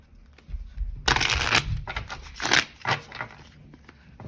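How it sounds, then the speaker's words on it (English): Tarot cards being shuffled by hand, a run of papery riffling bursts with short pauses between them, fairly close and alone without talk. "One more shuffle."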